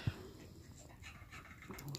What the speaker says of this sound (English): She's on that shot where she's panting like if she gave birth.